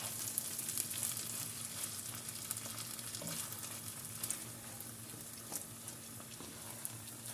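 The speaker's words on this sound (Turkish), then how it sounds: "Evet arkadaşlar kavurmaya devam ediyorum." Pickles and potatoes frying in a pan give a steady, close sizzle with a bright crackling hiss and scattered small pops and stirring clicks, continuous throughout with no talk.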